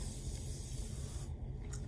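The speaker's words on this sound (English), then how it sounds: "Now I'm going to use the Morphe setting spray" A Morphe setting spray mists onto a face in one steady, close hiss lasting about a second, then cuts off, leaving quiet room tone.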